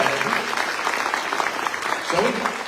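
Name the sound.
applause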